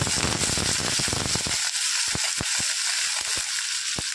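Green chillies and curry leaves crackle and sputter loudly in hot oil for a green moong and bottle gourd curry, a dense burst of popping that thins after a moment into scattered sharp crackles.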